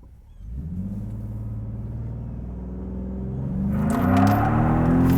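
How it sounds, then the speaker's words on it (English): A Ford Raptor pickup launches hard in all-wheel drive on a dead-end road: a steady, close engine rumble builds, then surges into a louder, rising roar with a broadband rush as it accelerates. No voices. "let's go to all-wheel drive and do a launch"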